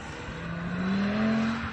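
A new Audi RS3 under hard throttle, its engine note climbing steadily as the car accelerates, heard moderately loud at some distance without any voices.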